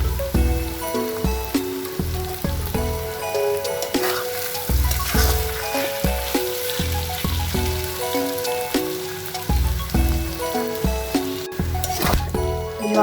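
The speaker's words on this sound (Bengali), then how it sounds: "এভাবে এটাকে সময় নিয়ে অনেকক্ষণ ধরে কষাবো" Cow tripe is sautéed and fried in a pan, producing a continuous crackling sizzle with stirring scrapes. Prominent melodic background music plays over it and partly masks the frying.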